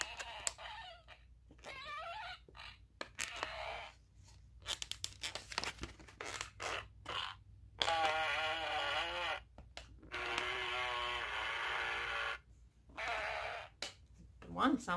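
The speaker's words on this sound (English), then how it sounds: "a joking around letter rip noisemaker thingy" A battery-powered plastic noisemaker toy bought at a dollar store gives off a string of buzzy electronic animal calls, bleating and clucking bursts broken by short pauses, fairly close and loud, with no talking over them.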